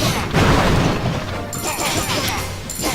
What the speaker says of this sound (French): Alors là il détruit la mine, la cabane